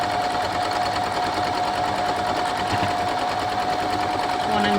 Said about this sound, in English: And I'm going to stitch number 1 and 2 together.